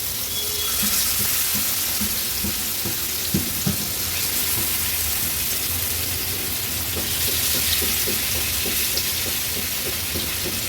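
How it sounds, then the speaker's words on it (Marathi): Pieces of ghol fish, an Agri-Koli style preparation, are shallow-fried in hot oil over a lowered gas flame, producing a loud, continuous close-up sizzle with scattered sharp pops and crackles, with no voices. "आता गॅसची फ्लेम लोवर करते आणि एक एक करून ह्या गोळीच्या तुकड्या तेलावर सोडते"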